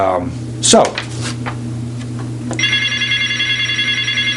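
A call-in telephone rings with an incoming call during a live broadcast, a steady electronic ringing pattern that starts after brief sounds and a short voice, continuing moderately loud to the end.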